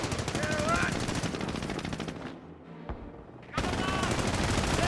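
Sustained machine gun fire in a Company of Heroes battle, loud rapid bursts that drop away briefly to near quiet before the rattling returns at full strength, with faint talk mixed underneath.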